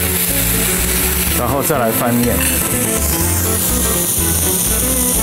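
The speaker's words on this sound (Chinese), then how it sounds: "一开始一定要先大火， 要有这种滋滋作响的声音" Meat searing over high heat in a pan at a Korean-style family eatery in Taiwan, a loud steady sizzle under background music, with a brief scraping burst as the pieces are turned and a voice speaking over it.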